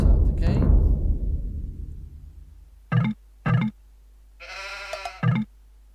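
Sheep in the video game Age of Empires II bleat in short bursts: two quick clipped bleats, then a longer wavering one and a final short bleat, alone and close after a fading opening sound.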